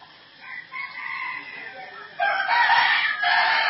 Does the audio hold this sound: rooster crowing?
yes